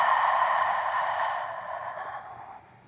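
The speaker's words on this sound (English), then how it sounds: "One more deep breath together." One deep breath during a gentle yoga session, a long soft exhale that starts strong and fades gradually over about three seconds, heard alone without talking.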